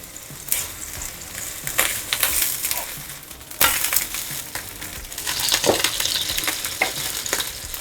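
A methi-onion dhapate flatbread fries in a hot pan just after flipping, crackling and sizzling loudly up close, with scraping and clattering bursts from a spatula.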